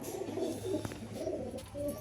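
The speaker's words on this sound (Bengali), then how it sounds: "আন্ধ্রা ম্যাট্রাজ পায়রা" Andhra Madras pigeons coo in repeated low, throaty rolling phrases, close and continuous, with no talking.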